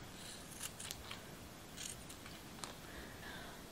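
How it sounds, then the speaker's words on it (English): Scissors snip through a hank of fiber being cut in half for sculpting a horse's mane, several quick sharp cuts close by over a quiet background. "I'm going to cut my hank in half"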